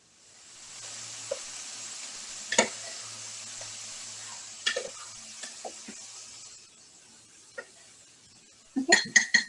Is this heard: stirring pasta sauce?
yes